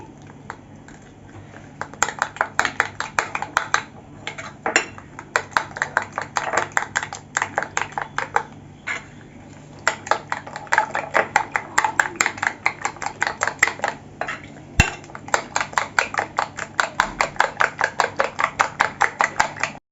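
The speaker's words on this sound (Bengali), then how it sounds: "চামচ ময়দা দিয়ে দিচ্ছি ভালো করে ফেটিয়ে নিচ্ছি" A spoon rhythmically beats chicken batter with flour in a bowl, producing quick, steady clattering strokes that come in repeated runs with short pauses, close and without talk.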